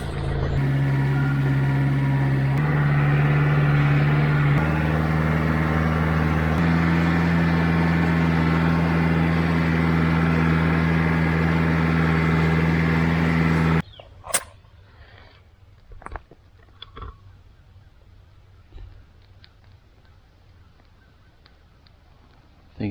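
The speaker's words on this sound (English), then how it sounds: "I'm going to get the tractor." Tractor engine idling loudly and steadily at close range for about fourteen seconds, then cutting off to quiet background with a few scattered knocks.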